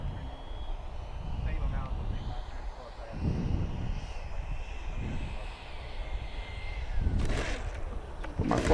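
An XFLY Sirius 80mm RC jet airplane comes in to land, its ducted-fan whine rising and falling at a moderate distance over wind noise, with a louder sweep near the end.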